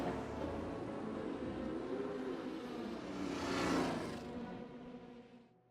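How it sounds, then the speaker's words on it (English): A Ford GT race car fires up and pulls away in first gear during an endurance race at night, the engine note building into a loud rising rev before fading away as it leaves. "We start the car back up, drop into first gear, and take off."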